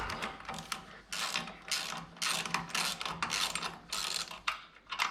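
A ratchet tightens bolts on a Mustang II disc brake during reassembly, with repeated loud, close bursts of rapid clicking separated by short pauses.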